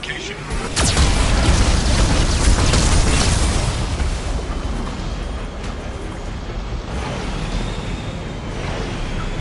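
A Geth cannon fires in the game Mass Effect 2, a loud booming blast that swells into a long, roaring rumble and slowly settles.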